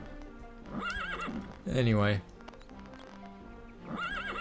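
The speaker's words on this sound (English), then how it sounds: "I just want to show you my horse." Horse in the Daggerfall video game gives a loud, brief whinny mid-clip, with hoof clip-clop faint around it; someone talks before and after.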